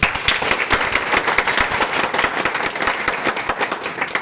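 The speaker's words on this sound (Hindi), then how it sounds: "इस सिस्टम के लिए दमदार ताली बजाइए।" An audience at a network marketing seminar bursts into vigorous applause, dense rapid clapping of many hands held at a steady loud level throughout.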